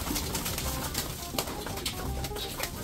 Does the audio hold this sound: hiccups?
no